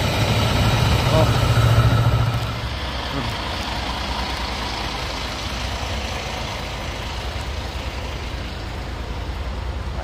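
Trucks, buses and other vehicles idle in a long traffic jam on the Andaya highway in Ragay, Camarines Sur, a steady low engine rumble with a brief louder swell early on.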